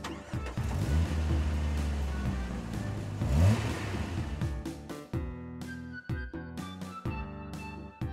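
A car engine revs and roars up and down for a Lego Porsche Cayenne in a stop-motion toy scene, moderately loud, with sharp clicks and bumps following toward the end.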